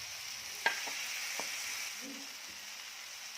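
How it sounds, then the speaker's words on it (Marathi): Mashed brinjal goes into a pan of chilli and masala for vangyache bharit, sizzling steadily with a few soft clinks and stirring scrapes, close and quiet, with no talking. "तर हे परतल्यानंतर जे आपण कुस्करून घेतलेलं वांगा आहे ते यामध्ये घालायचं आहे"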